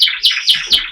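A buff-coloured pet hen bird gives four quick, bright chirps in an even rhythm, close and loud, with no other sound around them.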